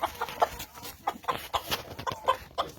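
A Barnevelder chicken, a laying breed, clucks close by in a quick, irregular series of soft, throaty notes.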